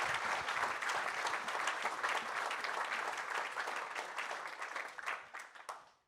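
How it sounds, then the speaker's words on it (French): Audience at a business round-table conference applauding the participants: steady, dense clapping from a crowd heard at moderate distance for about five seconds, then thinning out and stopping. "je vous propose d'applaudir nos participants intervenants"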